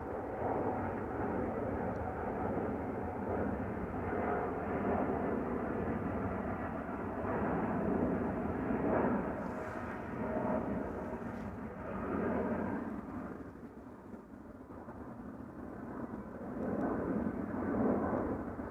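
A Boeing 787-10 Dreamliner takes off at Amsterdam Schiphol Airport bound for Delhi, its engines a steady, moderately distant broadband roar that holds throughout with slight swells and fades.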